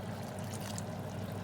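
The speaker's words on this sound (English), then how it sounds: "I'm just going to add a touch more water." Water trickles steadily into a pot of homemade chilli sauce, a soft, continuous pour at close range with no voices over it.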